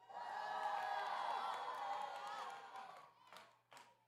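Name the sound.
audience cheering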